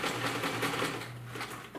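A sewing machine stitches a fabric face mask in a steady, close, rapid whirring run that eases slightly toward the end, with no voices.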